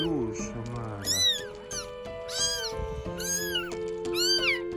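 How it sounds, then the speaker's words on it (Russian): Repeated high-pitched meows from a small kitten in bushes, several cries in a row, close and clear over a steady low hum in the background. "он услышал плач маленького котенка в кустах,"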